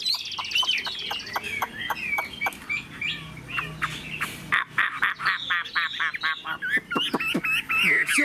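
Close, energetic hwamei birdsong of rapid whistles and chattering trills, varied and nearly continuous, with repeated short phrases pouring out one after another.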